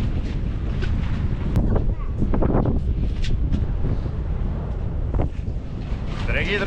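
Cold, strong wind at the windmills of Zaanse Schans near Amsterdam roars and buffets the microphone loudly and continuously, with a few brief faint sounds mixed into the gusts.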